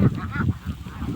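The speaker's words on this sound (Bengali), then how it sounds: "এখানে দেখেন কত ক্যাম্বেলের হাঁস আছে" Khaki Campbell ducks in a flock, giving a close, continuous run of loud honking quacks and calls that overlap through the short stretch.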